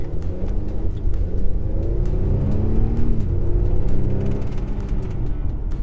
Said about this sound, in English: You can hear the engine there.